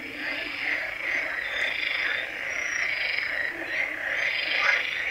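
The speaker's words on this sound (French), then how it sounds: "C'était la fanfare des crapauds ou des grenouilles ou des deux." A dense chorus of toads or frogs croaks through the night, a steady, continuous wash of overlapping trilling calls with no pauses and no voices.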